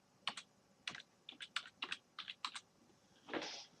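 Keys clack on a computer keyboard as a client name and password are typed, a quick run of separate, fairly faint taps ending in a slightly longer key press, with no voices.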